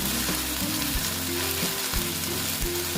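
Boiled kochur loti (taro stolons) fry in a pan with a dense, steady sizzle and crackle, close up. A low, periodic hum runs underneath and no one speaks.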